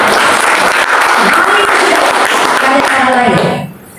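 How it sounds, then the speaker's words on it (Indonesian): A church congregation at a worship service claps loudly and densely, with voices and a little music audible underneath, before the applause cuts off sharply near the end and the room goes quiet. "Tepuk tangan Bapak."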